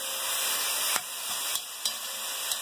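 Beef sizzling steadily as it browns in a hot pan, a dense close frying hiss, broken by a few soft clicks of stirring.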